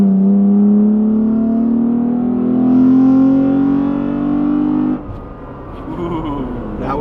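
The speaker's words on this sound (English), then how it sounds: "we're gonna do a little bit of wide open throttle pull with the 2016 to 2020 Tacoma full catback kit" A 2016–2020 Toyota Tacoma with a Carven full cat-back exhaust roars through a wide-open-throttle pull toward about 6,000 RPM, engine pitch climbing steadily and loud before dropping off as the throttle closes.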